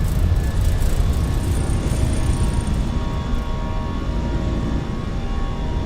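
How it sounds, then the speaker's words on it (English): Airbus A320 jet engines at takeoff power in Microsoft Flight Simulator 2024, a loud, steady roar with a thin high whine that gradually eases, no speech. "those engine sounds are unbelievable"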